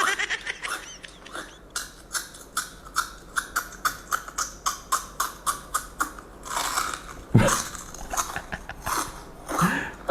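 Crunchy potato snack bitten and chewed close up, a long run of sharp rhythmic crunches in steady succession, with a couple of louder bites near the end.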